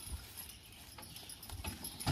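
Draft horses walk with faint, irregular clip-clop hoofbeats on firm ground, soft and somewhat distant, with light rattling mixed in.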